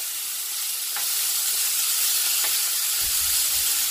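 A burger sizzles loudly and steadily in hot fat, a constant crackling hiss with a couple of faint taps and a low thump near the end.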